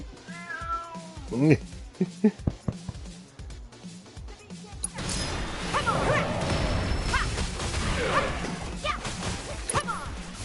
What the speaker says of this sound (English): My kitty's in front of the TV.